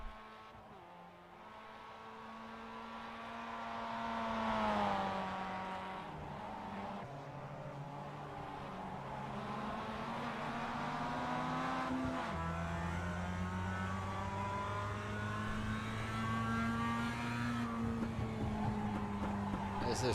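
Mazda MX-5 race cars lapping Zandvoort in a racing video game, one engine droning steadily and shifting pitch through gear changes, with other cars faintly audible, all under a quiet mix.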